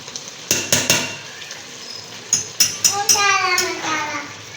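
Green masala of tomato, green chilli, coriander and mint drops into a hot chicken biryani pot and begins frying, with several sharp clattering hits and then a bright sizzle, while someone talks over it.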